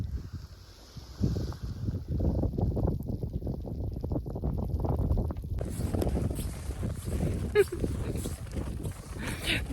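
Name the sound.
wind blowing over snowy field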